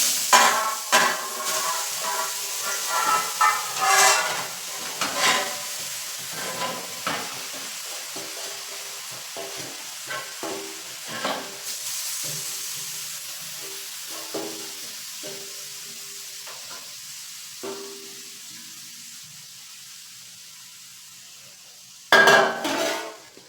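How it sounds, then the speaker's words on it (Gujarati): About two kilograms of grated carrots fry in ghee in a kadai while being stirred, a soft sizzle with repeated scrapes and clinks of a spoon against the pan, quieting over time before one sharp metallic clank near the end. "આ બધું છીણ છે તે આપણે કડાઈમાં એડ કરી લેશું"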